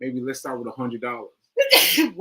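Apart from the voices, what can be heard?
sneeze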